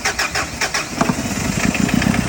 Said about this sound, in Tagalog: So, try ulit nating paandarin.